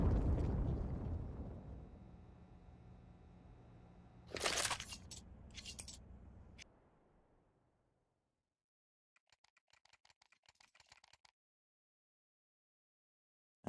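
A bomb goes off in a Counter-Strike pro league match, a loud rumbling blast that decays slowly, with sharp crackles at its tail. Silence and faint ticking follow.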